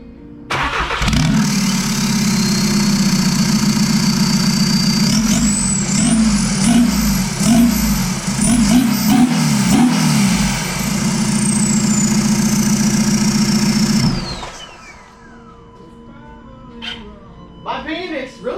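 Volkswagen Jetta 2.0 TDI CJAA diesel with a hood stack installed, starting up and settling into a steady, loud diesel idle with clattering rhythm and a rising whine before dropping off near the end.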